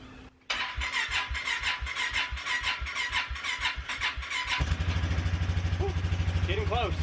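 A battery-powered ride-on vehicle with an aging battery cranks in a steady rhythmic churn for about four seconds, then catches and settles into a running engine idle, close and fairly loud.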